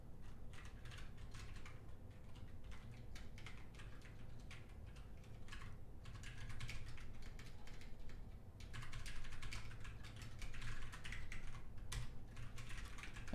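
Steady typing on a computer keyboard during a coding session, close and continuous with irregular clattering keystrokes throughout and no talking.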